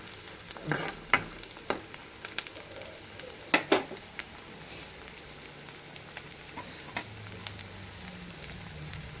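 Tomatoes frying in a pan, a steady close sizzle punctuated by sharp spatula scrapes and stirring knocks against the pan, busiest early on and then settling.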